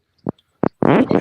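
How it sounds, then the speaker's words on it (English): A loud fart: two short separate bursts, then a longer rumbling blast that trails off, heard alone with no talk over it. "Big ass fart."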